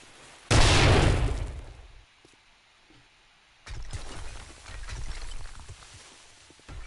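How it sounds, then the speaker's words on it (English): Rock-blasting explosion in 7 Days to Die: a loud, sudden boom that rumbles off over about a second and a half, then quiet, then scattered crumbling debris and further rough rumbling bursts. "those rocks are like technically buffing the explosion"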